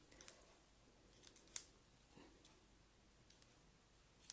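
Scissors snip through paper for a handmade card, a few quiet, separate cuts spread out over a few seconds with soft clicks in between, close and faint in a still room.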